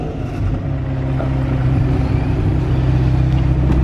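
Engine of a McLaren 720S sports car passing close by as a steady low rumble that builds slightly in loudness over several seconds, alone without voices.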